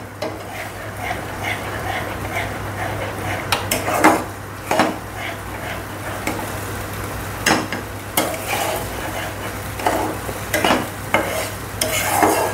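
Goda masala spices are stirred and sautéed in a pan with a wooden spoon, giving steady scraping strokes and clatter against the metal over a soft continuous sizzle.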